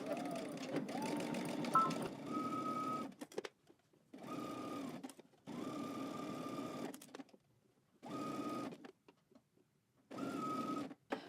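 A domestic sewing machine stitches a 5/8-inch seam allowance on a dress pattern, starting with a backstitch and pivoting near the top, running in five steady bursts separated by short pauses, with a steady motor hum and close, rapid needle clatter.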